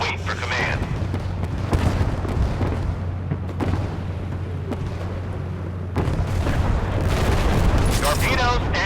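Warship guns fire in the naval combat game Force of Warships: a dense, continuous barrage of booms and blasts over a low steady hum, growing louder and busier near the end.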